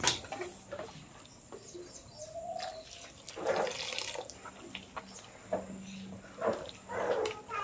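Water is poured off soaked red clay in a rural courtyard. Splashing and trickling come in uneven bursts close by, and birds chirp faintly in the background.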